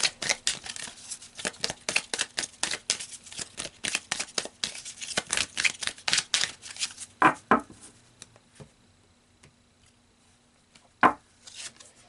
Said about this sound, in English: So let me pull some more cards